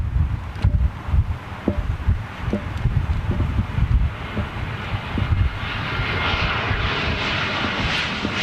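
Korean Air Cargo Boeing 777 freighter on approach, a broad, steady engine roar that swells toward the end, with wind buffeting the microphone throughout.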